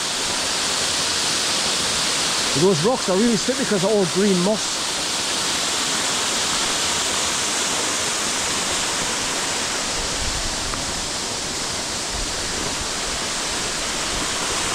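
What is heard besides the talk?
waterfall in Craik Forest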